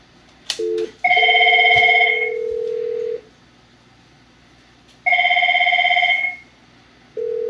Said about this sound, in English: I'm gonna make all these phones except for the one at the top right ring at once.